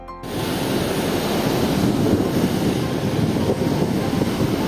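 Sea waves wash onto a Sri Lankan beach with a steady, broad roar of surf, close and constant, with some wind noise and no talk.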